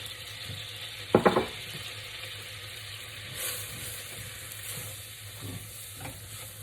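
Flour cooking in melted butter in a saucepan for a roux gives a soft, steady sizzle, with a quick metallic clatter near the start and light stirring scrapes throughout.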